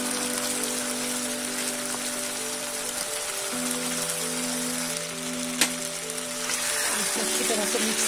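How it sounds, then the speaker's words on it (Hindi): Raw papaya pieces dropped into a pan of hot oil and cooked-down tomatoes, producing a steady, dense sizzling hiss that continues evenly throughout, close up and fairly loud. "अब हम पपीते को डालेंगे।"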